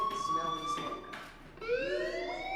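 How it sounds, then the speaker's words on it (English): A fire alarm sounds in the video game Life is Strange as a shrill electronic tone that holds, breaks off and then rises in pitch, loud and fairly close. "do you hear that fire alarm?"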